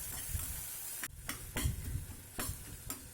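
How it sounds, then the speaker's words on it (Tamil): Brinjal, tomato and tamarind sauté in a pan and are mashed with a ladle: a soft, low sizzle broken by several sharp, close scrapes and taps of metal. "கத்திரிக்காயும் தக்காளி நல்லா கொத்தி விட்டுக்கோங்க கரண்டையால் கொத்தி விட்டிங்கன்னா நம்ம சீக்கிரம் மசிஞ்சி வந்துடும்"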